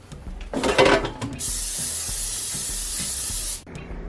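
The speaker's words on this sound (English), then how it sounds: "Remember to spray your air fryer and preheat it" A brief rustle, then a steady hissing spray of cooking oil lasting a couple of seconds from a nearby can into an air fryer, stopping abruptly.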